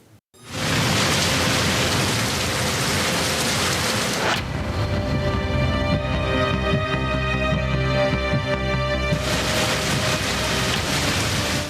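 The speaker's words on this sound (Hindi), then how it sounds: "इस्लामाबाद में चंद घंटों की मूसलाधार बारिश ने निकासी के इंतजामात का पोल खोल दिया" Heavy torrential downpour in Islamabad, a dense, steady roar of rain that fills the clip at constant loudness, with a shift in texture midway as a tonal layer joins briefly before the broad wash returns.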